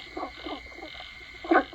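Frogs croak in short pulsing bursts, a relaxation sound played from a Divoom MiniToo retro speaker, a louder call near the end, over a steady hiss of ambient background.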